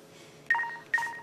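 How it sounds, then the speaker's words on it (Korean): Two crisp touch-tone beeps ring out as a telephone number is dialed, evenly spaced and fairly clear above a low room hum, with no talking. "아무래도 정철이한테 전화해야겠어"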